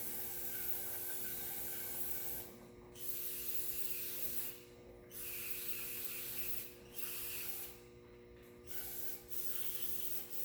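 Brake cleaner hissing from an aerosol can onto M35A2 truck air pack parts, several long bursts of close spray separated by short pauses, with no talking.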